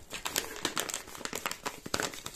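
A plastic bag of black and white sesame seeds crinkles and rustles in quick, irregular bursts as it is handled close to the microphone.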